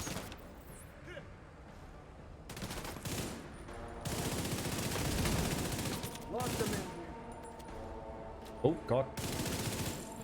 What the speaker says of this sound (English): There's someone downstairs shooting.